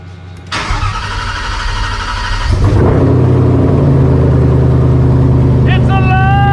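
Factory Five Type 65 Daytona Coupe engine firing for the first time: a cranking burst, then the engine catches and settles into a loud, steady idle rumble, with someone talking near the end.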